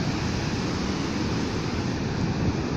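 Sea waves washing ashore: a loud, continuous broadband rush of surf close by, steady throughout with no voices.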